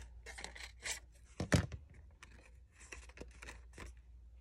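Scissors snip through paper for small flower petals, a handful of quiet crisp cuts and rustles with short pauses between them, close and alone.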